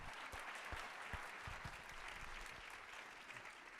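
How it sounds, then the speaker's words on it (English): Audience at an elevator-pitch competition applauding the startups, a steady, continuous roll of many hands clapping, heard from a distance and fairly faint, with a few low thumps scattered through. "How about a round of applause for all the startups that are here?"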